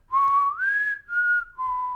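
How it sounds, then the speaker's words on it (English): A person whistles the four-note mockingjay tune from The Hunger Games, clear and solo: a low note, a higher held note, a slightly lower one, then a drop back down. "I was trying to remember the whistle here."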